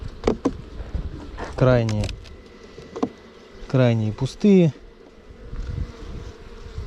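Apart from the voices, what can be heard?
honey bees buzzing at an open hive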